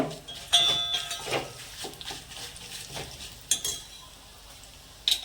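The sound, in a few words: mustard seeds, dal and cumin sizzling in oil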